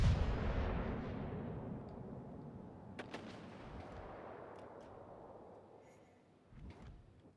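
Heavy warship artillery in World of Warships: Legends, a loud deep boom at the start decaying into a long rumbling tail, with a couple of sharp distant reports later and another thud near the end.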